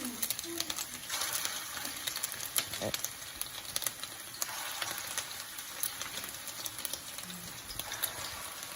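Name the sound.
meatballs frying in hot oil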